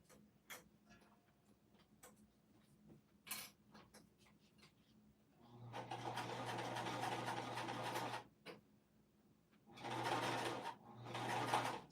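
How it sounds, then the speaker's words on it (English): A domestic sewing machine bastes fabric under its presser foot, running in two sustained whirring bursts with a pause between, after quieter clicks and taps of handling. "my machine, as long as I can put it underneath my presser foot, it will sew through it"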